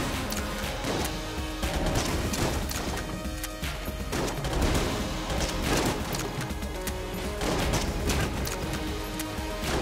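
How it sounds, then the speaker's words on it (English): A screen-shake cannon fires in the video game Enter the Gungeon, a relentless barrage of loud blasts and crashing impacts that runs throughout, layered with busy game music and effects. "It deserved the screen shake cannon."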